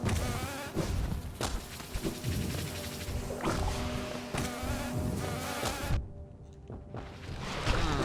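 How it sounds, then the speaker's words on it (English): Bees buzzing in the Hollow Knight game's hive area, a steady insect drone running continuously beneath game effects and thuds, fairly loud with no talk. "So many. So many bees."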